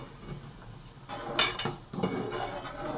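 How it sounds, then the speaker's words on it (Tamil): A ladle stirs a Tamil urundai kuzhambu gravy in a pot, making a few close scrapes and soft metallic knocks over a quiet background, with no talk. "குழம்பு கிண்டிட்டுக்குவோம்"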